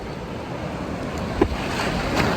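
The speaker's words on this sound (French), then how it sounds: "Il y a des grosses vagues de fou malades." Big ocean waves wash onto a beach in Guadeloupe, a steady broad surf roar with wind buffeting the microphone and a brief louder surge partway through, no voices.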